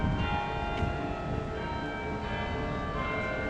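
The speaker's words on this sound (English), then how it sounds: "Peal the bells at St Mary Le Bow." Church bells peal at St Mary Le Bow in Cheapside, London, with ringing tones heard at a distance over a steady wash of city background noise.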